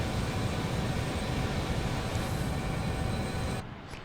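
Steady, loud airliner engine roar from a Microsoft Flight Simulator career flight with flaps extending on approach, a constant broadband drone that drops off abruptly near the end.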